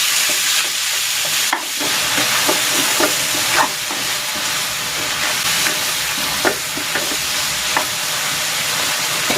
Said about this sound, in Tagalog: Igigisa ko na dito yung pork